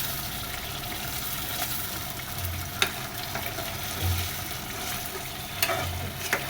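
Hilsa korma with milk and green chilli being stirred gently in a pan, a soft low simmering sizzle with faint occasional scrapes and a few light clinks.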